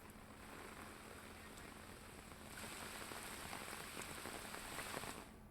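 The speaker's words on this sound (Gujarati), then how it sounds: "તો અંબાજીમાં ભારે વરસાદ નોંધાયો છે।" Heavy monsoon rain falls in Ambaji as a dense, continuous hiss of drops on surfaces, growing louder halfway through and then holding steady, with no voices.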